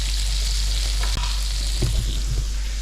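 Prawns coated in curry paste sizzle steadily in a hot pan, a loud, continuous fry with a few clicks and stirring knocks partway through.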